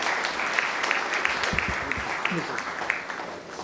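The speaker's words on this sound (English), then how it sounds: "Please give a round of applause to Mr. Jagmohan Kaul" Audience applause for a speaker at the Saraswat Chamber annual conclave 2022 in Goa, a steady wash of many hands clapping at moderate level, with faint voices murmuring underneath.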